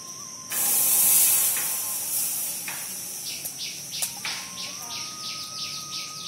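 Cow's milk poured into a hot kadai sets off a loud, steamy hiss that swells abruptly and then eases into a softer sizzle, with faint bird chirps repeating in the background.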